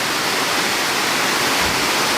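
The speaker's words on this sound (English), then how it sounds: "So this here is Na Muang Waterfall 1." Na Muang Waterfall on Koh Samui, Thailand, gives off a loud, steady roar of falling water, a broad continuous rush heard up close with no voices over it.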